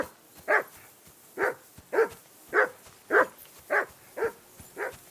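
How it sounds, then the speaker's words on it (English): A dog barks in Kingdom Come: Deliverance II, eight evenly spaced barks at a moderate distance with short gaps between them and no voices over them. "I assume you can hear that damn dog of yours barking"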